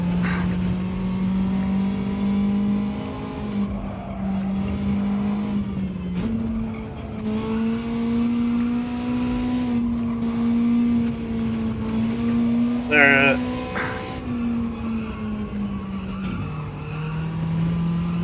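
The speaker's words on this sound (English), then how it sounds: "I think this is also one of those cars where you have to lift the throttle when you upshift" An Abarth race car in Gran Turismo 7 drones loudly with a steady engine tone that climbs and drops at several upshifts, with a brief tire squeal near the middle.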